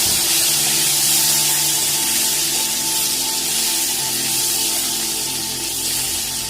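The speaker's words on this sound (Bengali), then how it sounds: "তো এবার আমি আলুটাকে ভেজে নেবো" Potatoes fried in hot oil with fenugreek, cumin, ajwain and fennel seeds plus green chillies, alongside drumstick pieces, producing a loud, continuous hissing spray of frying close up, with no talking.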